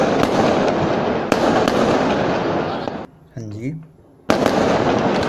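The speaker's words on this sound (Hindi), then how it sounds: "इनका पटाखा फोड़ना बंद नहीं हो रहा।" Diwali firecrackers burst late at night in a dense, continuous crackle of loud pops and sharp bangs, pausing for about a second while someone speaks briefly, then resuming at full intensity.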